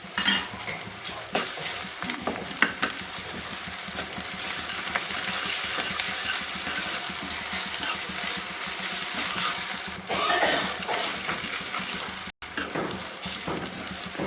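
Onion with ginger garlic paste fries in a pan for an egg omelette curry, with a continuous sizzle and repeated scraping and clinking of a spoon stirring against the metal throughout.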